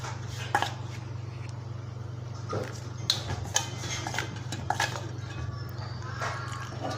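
Pokori batter of narasingha (curry) leaves, salted and spiced with hot chilli, being mixed with water in a bowl: scattered clinks and light scrapes from the utensil against the bowl over a steady low hum, with no talking.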